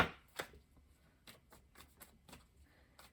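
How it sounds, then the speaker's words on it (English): Light Seers tarot cards are shuffled by hand in quick, soft riffling bursts and taps, close and quiet, with several distinct flutters spaced through a calm room. "I have shuffled like crazy beforehand, and you're seeing me shuffle now."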